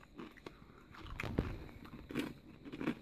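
Black pepper potato crisps being bitten and chewed close to the mic, a handful of quiet, irregular crunches spread over a few seconds with no talk.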